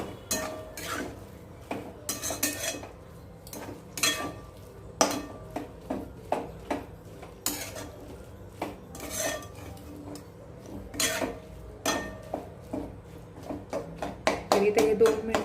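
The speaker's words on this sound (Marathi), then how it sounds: "दूध घातल्यानंतर हे आपल्याला चांगलं व्यवस्थित हलवून घ्यायचं आहे।" A spoon repeatedly scrapes and knocks against a pan while a coconut burfi mixture with milk is stirred, in quick irregular strokes close up with a low background hum.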